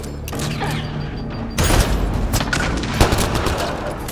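Rapid gunfire and heavy impacts in Mass Effect Andromeda, dense clattering bursts with a couple of sharp booms, loud and close.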